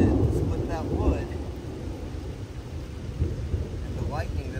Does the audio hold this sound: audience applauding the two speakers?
no